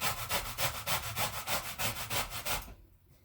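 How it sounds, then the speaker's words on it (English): Lemon rubbed up and down on the small side of a box grater for zest, a steady run of about fourteen rhythmic rasping strokes, close and clear, stopping near the end with no talking. "you're just going to kind of rub your lemon up and down"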